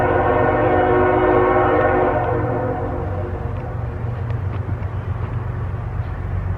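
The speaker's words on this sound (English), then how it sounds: "there's a train in the background" A train passing nearby, loud and continuous, with a sustained horn-like tonal blast that fades into rumbling rail noise, no talk over it.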